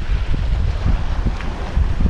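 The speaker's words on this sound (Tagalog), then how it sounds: "malakas ang hangin" Strong wind buffeting a microphone at Figueretas Beach in Spain, heard as a loud, continuous low rumble with gusty surges and a faint wash of surf behind it, no voices.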